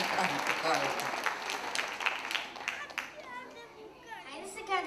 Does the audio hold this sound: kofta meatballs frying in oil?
no